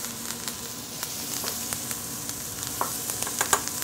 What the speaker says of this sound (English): So the butter's gonna start to see the foam there, and then we're just gonna baste the steak in the foaming butter